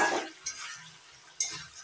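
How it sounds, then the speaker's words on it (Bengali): A spoon stirs fried egg into boiled okra and potatoes in a pan, two short scraping strokes close by over a faint sizzle, otherwise quiet. "ভালো করে মিশিয়ে নিচ্ছি।"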